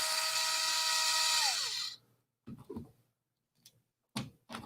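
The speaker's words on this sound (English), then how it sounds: "Just remove these two screws and this whole cap will come off." Power screwdriver backing two screws out of a cap on a new CEN F-450 dually truck: a loud whirring drill burst winding down, then brief clicks and knocks of handling.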